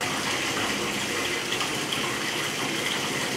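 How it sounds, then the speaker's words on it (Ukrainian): Rusty orange tap water gushes steadily from a faucet into a bathtub in a new-build apartment, giving a continuous loud splashing rush with no talk. "В одній із квартир набираємо воду до ванної."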